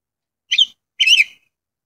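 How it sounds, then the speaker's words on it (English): Two short, high whistles sound alone against silence, each a quick warbling chirp, the second longer and fuller than the first. "If that whistling does not stop, I'm gonna go crazy."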